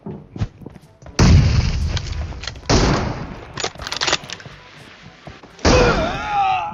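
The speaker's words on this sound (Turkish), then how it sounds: "Dur dur bekle dur beyninin ortasına yapıştırayım şu bombayı da aklı başına gelsin" Several bomb and gunfire blasts in a video game, sharp loud bursts with booming tails scattered across a few seconds, the last followed by a high ringing whine.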